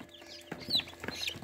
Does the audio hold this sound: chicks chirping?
yes